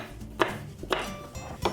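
A knife chops through a jalapeno pepper on a cutting board in three sharp, evenly spaced strikes, close and crisp with brief quiet gaps between.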